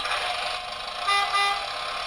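Horn of a road roller tooting, a bright sustained honk up close with a couple of swelling pulses, heard alone without speech.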